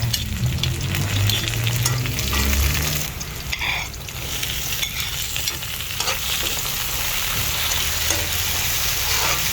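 Garlic and onion sautéing in a pan, a loud close sizzle with stirring and occasional clanks of a utensil against the pan, no talk.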